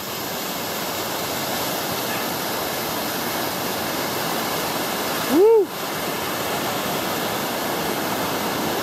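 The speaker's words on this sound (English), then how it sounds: "All these streams coming in together." Several streams converge into the Deception River on the Te Araroa trail, a steady broad rush of water filling the scene throughout, with a short whoop from a nearby voice midway.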